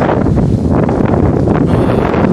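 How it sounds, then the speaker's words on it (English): Strong blizzard wind roars across a microphone on a snowy residential street lined with trees, a steady loud broadband rush with gusting swells and no pause throughout. "there's some wind there"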